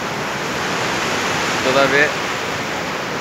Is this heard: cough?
no